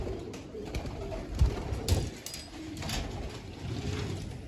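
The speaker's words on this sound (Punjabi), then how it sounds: "ਲਓ ਜੀ ਗਈਆਂ ਕਬੂਤਰੀਆਂ ਵੀ" Pigeons take off with a few sharp wing claps and soft, low cooing nearby, under light background noise.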